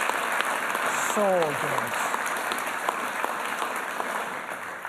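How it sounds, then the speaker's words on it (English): An audience at a Christmas Eve carol service in Abergavenny claps in sustained, dense applause after a performance, while a voice speaks briefly over it. "Can we give these guys another round of applause?"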